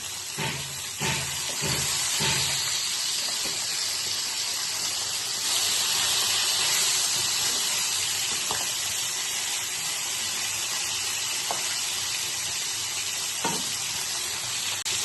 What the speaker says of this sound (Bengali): আমার মাছগুলো দেখো ভাজা হয়ে গেছে।